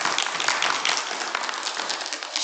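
A church congregation applauds to welcome singers to the front, a steady dense wash of many hands clapping, fairly close and sustained throughout.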